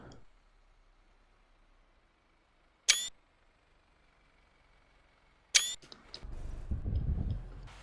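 A camera shutter in the bus-driving game OMSI 2 fires twice, a few seconds apart, each a sharp mechanical click, over a faint steady hum, followed by a low engine rumble.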